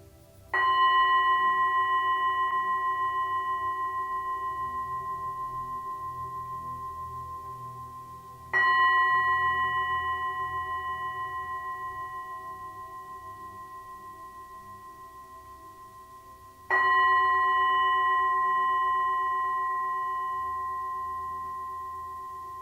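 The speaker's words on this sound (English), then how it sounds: "Allowing the sound of the bowl to echo around you as we close the class with 3 bells." A singing bowl is struck three times, evenly spaced, each clear ringing tone sustaining and slowly fading before the next strike.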